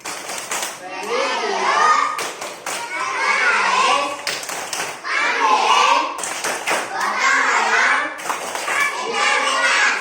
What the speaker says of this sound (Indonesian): Masih ingat tepuk PPK? Masih. Tepuk PPK.